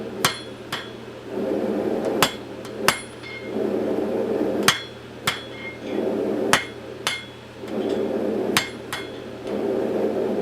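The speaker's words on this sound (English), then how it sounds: "using the corner of the anvil so I don't mess up my work, I just hammer out where that twist was made" Forged steel tongs are hammered on the corner of an anvil, giving sharp, ringing metallic strikes in irregular pairs and bursts, close and loud, with a steady roar like a forge fire running underneath.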